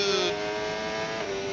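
Ferrari Formula 1 car cornering through a twisty section during Miami qualifying, its engine a steady high-pitched whine held at a near-constant note for the whole short stretch, loud and continuous with no talk.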